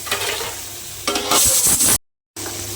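Onions and tomatoes frying and being stirred in a pan for goat intestine curry: close, steady sizzle with scraping stirs, growing louder before a brief cutout, then the sizzle resumes.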